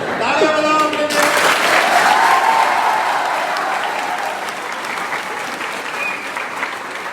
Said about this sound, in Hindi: तालियां बजाओ अपने लिए।